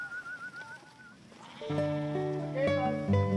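A flock of sheep grazing peat bog moorland, with several overlapping bleats rising from fainter calls to louder, nearer ones over a quiet outdoor background.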